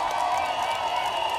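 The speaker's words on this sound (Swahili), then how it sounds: "wapi makofi ya Irene Mayaka" Applause and cheering from a large outdoor crowd at a political rally in Nyaribari Chache, a steady dense wash of clapping that holds evenly at full strength throughout.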